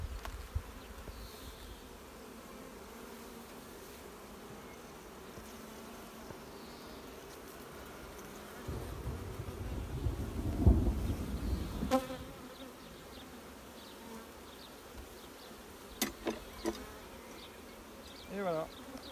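Honey bees swarm around an open hive while a colony is split into a new one. A steady close buzz runs throughout, thickening in the middle, with a few sharp knocks and clicks near the end.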